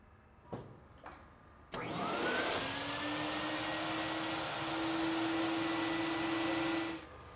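A vacuum forming machine shapes vinyl plastic over leaf forms for a taxidermy habitat scene. Two faint knocks come first, then a loud, steady roaring whoosh with a rising hum that runs for about five seconds before cutting off.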